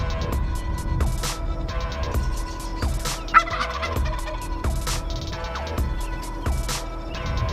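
A wild Nebraska gobbler gobbles loudly and close, with repeated rattling bursts spread over several seconds. Faint rustling runs underneath.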